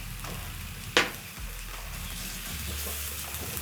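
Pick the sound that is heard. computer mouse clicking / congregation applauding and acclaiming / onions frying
onions frying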